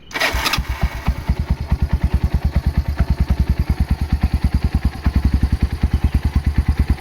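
A restored Kawasaki Binter Merzy KZ200 motorcycle engine cranks and catches, then settles into a steady, rhythmic thumping idle, close and continuous.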